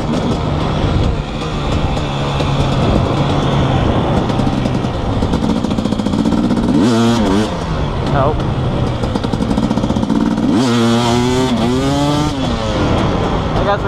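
A dirt motorcycle climbing a hill on a trail in second gear, its engine droning loud and close under heavy wind rumble, with two sharp rev surges partway through.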